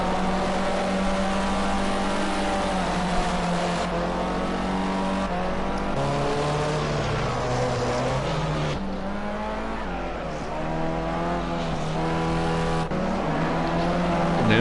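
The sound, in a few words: race cars driving in a racing video game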